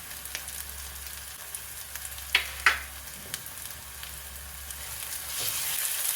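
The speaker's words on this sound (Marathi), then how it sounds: "कांदा फक्त ट्रान्सपरंट होईल तोपर्यंत आपण फक्त तेलामध्ये भाजून घेणार आहोत" Onion frying in oil in a pan while making Maharashtrian baingan bharta, a quiet steady sizzle with a couple of sharp spoon clinks near the middle and a hiss that swells at the end.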